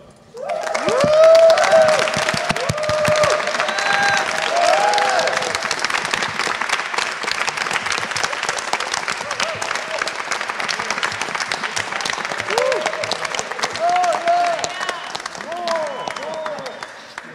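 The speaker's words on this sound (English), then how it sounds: "I want you all to go crazy and clap each other and whoop" Audience at a festival discussion on borders breaks into loud sustained clapping mixed with whoops and cheers, a dense steady wash lasting the whole stretch with scattered shouts rising above it.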